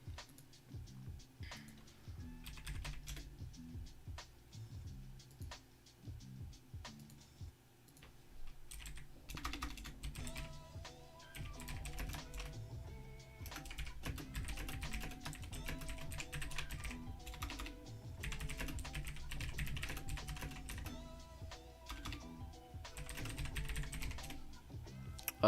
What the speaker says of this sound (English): Sorry, I was typing to somebody in chat.